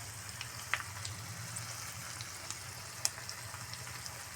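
Chicken pieces frying in a pan give a steady, soft sizzle with faint crackles and a couple of sharp pops, no voices over it.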